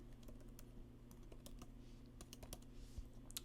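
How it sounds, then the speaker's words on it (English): Quick, irregular keystrokes on a computer keyboard, a steady run of light clicks tapping close by over a low constant hum, with no voices. "You're going to go ahead and type that IDX feed link."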